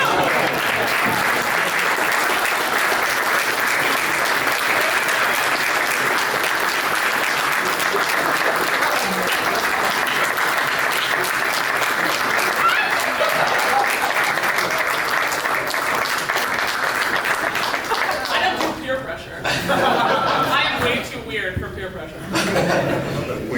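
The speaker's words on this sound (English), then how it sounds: "continuing a round of applause until they are done" Sustained audience applause from a crowd at an investor forum, dense and loud for about twenty seconds, then thinning into scattered claps with some chuckling and voices.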